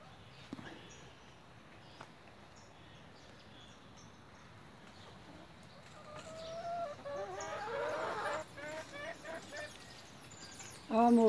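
Farmyard chickens cluck in a rural coop, with faint background murmurs early on, then a busier, louder run of clucks and calls building toward the end.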